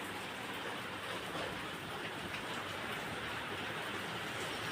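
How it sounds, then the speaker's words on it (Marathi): Heavy rain pours steadily outdoors during a monsoon downpour near a market, with wind, making a dense, continuous broadband hiss that stays even and loud throughout with no talking. "पाऊस जोरात आला"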